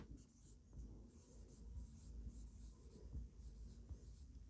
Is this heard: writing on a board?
yes